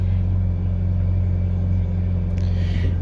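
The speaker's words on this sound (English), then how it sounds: "give it a little rev. You can hear that beautiful sound" A 2014 Ferrari California hardtop convertible's engine runs loud and steady at close range, a deep continuous rumble that swells slightly near the end, with no talking over it.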